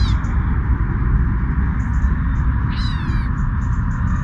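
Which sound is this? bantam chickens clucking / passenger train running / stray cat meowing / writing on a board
stray cat meowing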